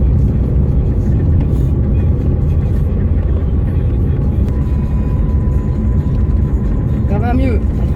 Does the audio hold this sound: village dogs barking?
no